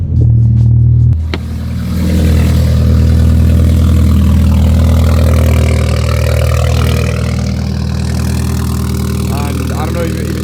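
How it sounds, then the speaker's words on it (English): A car with a loud aftermarket valved exhaust idles on a cold start, a deep, heavy rumble that drops back slightly after the first second and drones on close up, with a voice talking over it. "you guys are gonna see exactly why I hate this current exhaust setup, because it's just loud for no reason."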